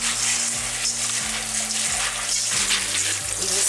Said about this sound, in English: I rinse off my beans.